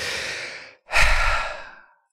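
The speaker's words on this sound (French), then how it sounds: "vous allez prendre une grande et profonde respiration pour vous gonfler de cette belle énergie" A deep breath taken during a hypnosis session: a long breathy exhale fades out, a short pause follows, then a strong, close inhalation rises and slowly tapers away.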